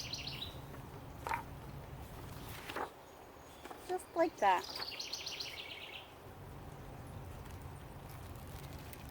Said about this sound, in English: You probably hear the birds.